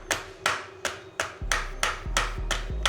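A hammer tapping on a fitting for a vanity unit being mounted to a tiled wall, nine sharp close knocks at a steady, slightly quickening rhythm, with no talk.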